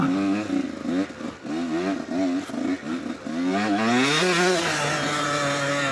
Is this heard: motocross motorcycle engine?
yes